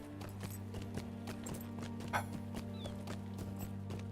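Horse hooves clip-clop in a steady galloping rhythm while riding in the online game The Lord of the Rings Online, over a constant low game music drone, fairly quiet and close.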